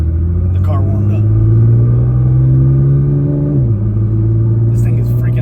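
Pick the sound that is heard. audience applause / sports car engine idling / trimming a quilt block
sports car engine idling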